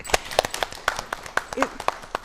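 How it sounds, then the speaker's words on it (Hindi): A small studio audience claps at a television talk show about women's empowerment, giving sparse, irregular hand claps rather than a full ovation, moderately close and with no speech over them. "हमारे सभी दर्शकों के लिए एक बार जोरदार ताली बजा दी"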